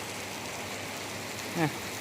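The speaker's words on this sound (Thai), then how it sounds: "สักพักฝนก็ตกนะครับ ฝนตกมาเลย" Rain falls steadily outdoors near water while fishing, a constant close hiss with a brief chirping call near the end.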